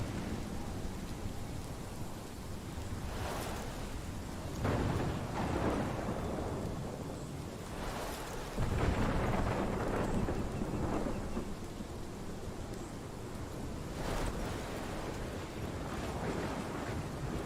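Steady rain pours through a thunderstorm in the game Life is Strange, with several rolling thunder rumbles swelling and fading over the constant hiss, no voices present.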